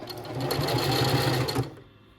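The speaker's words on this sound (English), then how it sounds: "And I'm going to back stitch" A sewing machine back stitching a tote bag: a fast, steady mechanical whir of the needle close by that runs for about a second and a half before stopping.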